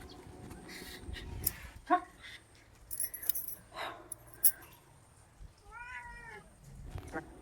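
Several short cat meows scattered through the clip, fairly close, with rustling and faint household noise between them.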